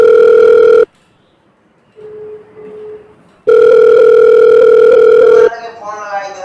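A loud, steady telephone dial tone sounds while a call is placed, breaking off into near silence with a faint repeated tone, then returning loudly before a warbling ringing tone takes over.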